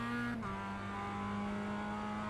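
Mazda MX-5 race car in the iRacing game on the Charlotte Roval, its engine droning steadily and loud close-up, with a quick gear change early on followed by continued acceleration.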